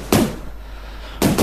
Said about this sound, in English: And, yep, lots of little explosions.